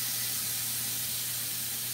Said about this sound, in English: I'm gonna take the chicken straight away and put it in the skillet and get it going